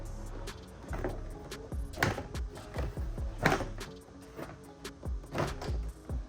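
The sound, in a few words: Lexus IS door panel being pulled off, clips popping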